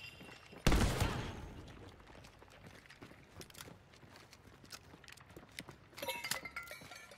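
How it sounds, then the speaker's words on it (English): A shotgun blast in Hunt: Showdown, a single loud close shot followed by scattered footsteps and clattering, then a further burst of sharp noise near the end. "Someone's got a shotgun."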